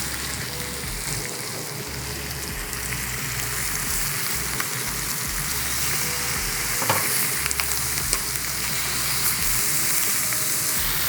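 Lemongrass garlic chicken thighs sizzle steadily in a hot pan, with occasional scraping and stirring as the pieces get shifted around, a continuous close frying hiss throughout.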